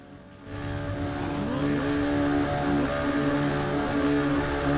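Several race car engines at Lernerville Speedway, in a video game, wail loudly together, their pitch rising and falling through gear shifts as they roar continuously.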